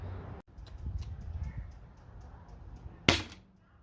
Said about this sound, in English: And last shot of the 50 cal foam balls.